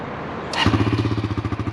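A Kawasaki KLX 140G motorcycle engine fires up and settles into a steady, throbbing idle close by, its low pulsing beat repeating evenly after a brief rising burst of noise.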